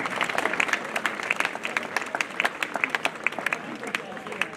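An audience at the opening ceremony of an outdoor town event claps steadily, with crisp distinct hand claps over a soft crowd murmur, heard at moderate distance.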